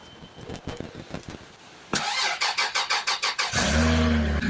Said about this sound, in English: Okay, so I started it up to charge the battery up a little bit